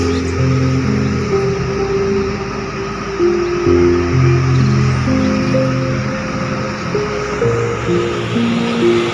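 Cars heading toward the Cikopo toll gate on Jalan Raya Cikopo near Cikampek in the late afternoon, a loud continuous roar of passing traffic with shifting engine drones and no talk.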